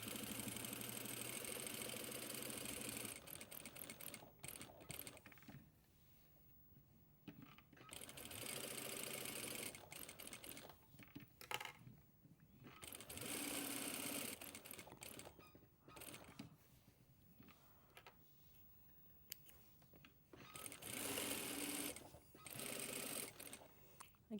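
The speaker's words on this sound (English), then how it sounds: "We'll do 2 rows of stitching." Domestic sewing machine running in long bursts, stitching two rows along the edge of a fabric pocket flap, with brief pauses between runs as the fabric is turned; steady mechanical whir close by.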